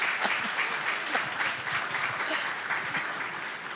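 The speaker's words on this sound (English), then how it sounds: "I hope that you all will applause after this." An audience at a theatre talk applauds, a dense patter of many hands clapping steadily and fairly close for a few seconds, with no voices over it.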